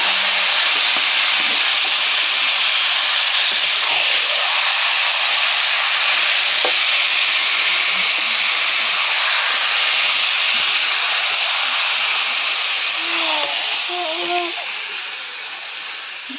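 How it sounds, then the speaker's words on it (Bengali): Meat cooking in a pan on a home stove makes a loud, steady hiss throughout, with a few faint clinks, easing off slightly at the very end. "সেই মাংস এখন মা রান্না করছে"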